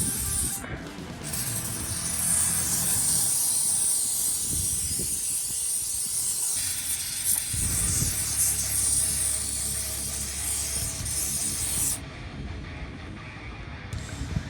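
A continuous close-up hiss of a spray nozzle applying rust-proofing coating to a truck runs for many seconds, with brief pauses and some faint clunks and handling noises.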